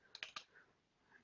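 Several sharp key clicks from a computer keyboard as an IP address is typed, three quick strikes close together followed by fainter taps, near and quiet with no talking.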